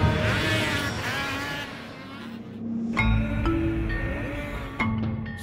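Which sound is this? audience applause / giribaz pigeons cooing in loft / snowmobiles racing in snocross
snowmobiles racing in snocross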